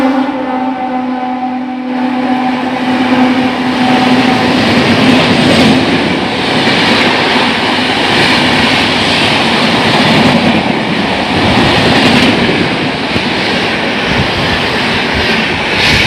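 Express trains roar past a stationary Santragachi–Jhargram MEMU held on a loop line, a loud continuous rumble of passing coaches with rhythmic wheel clatter that swells and fades in waves, close by and with no voices.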